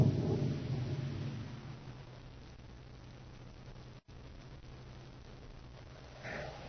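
A low rolling thunder rumble for an approaching storm opens, loudest at first, then fades into a steady dull hiss of noise, with a brief dropout partway through.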